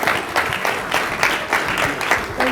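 A conference audience claps to welcome panelists onto the stage at an insurance industry session, steady applause running throughout with a few faint voices mixed in.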